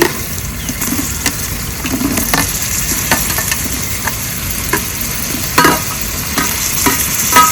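Mutton biryani ingredients frying in a pot with green chillies, carrot and tomato, a steady loud sizzle with occasional stirring scrapes, close and without talk.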